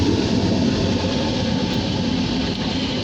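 A Norfolk Southern mixed manifest train rolls past near Erie, PA, during a meet with a CSX train, giving a steady, loud, close rumble of wheels and cars throughout.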